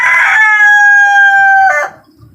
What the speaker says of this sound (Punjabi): ਮੁਰਗਾ ਭਜਾਇਆ ਜੀ